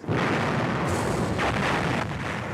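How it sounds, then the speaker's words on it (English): Dense, continuous rumbling booms of distant heavy gunfire roll together without pause, loud and sustained throughout. "suddenly there was an enormous artillery barrage."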